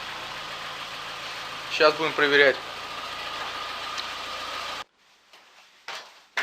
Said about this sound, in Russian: Так, завели машину.